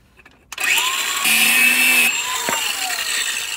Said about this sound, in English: I like to use a grinder with a cutoff wheel to do this.